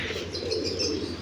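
A pet parrot gives soft, faint chirping calls at a moderate distance over a quiet background hum, with no talking.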